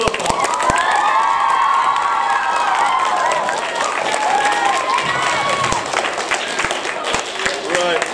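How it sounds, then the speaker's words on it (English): Loud, lively applause and cheering from an audience at a children's nativity play, with children shouting and voices mixed into steady clapping that keeps going. "give them the best round of applause so far."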